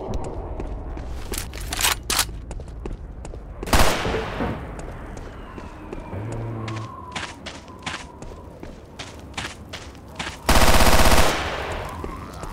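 Gunfire in the video game Left 4 Dead 2: scattered single shots and thumps over game noise, with a loud sustained automatic burst near the end.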